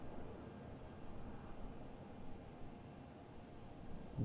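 A steady low electrical transformer hum with broadband hiss, constant and unbroken throughout, droning inside a closed Airbus A320 cockpit in a flight simulator.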